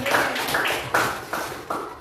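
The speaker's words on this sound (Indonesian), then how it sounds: "kasih tepuk tangan dulu untuk Ibu Ulan" A group in a classroom setting claps for a teacher: several rounds of quick, close, sharp claps.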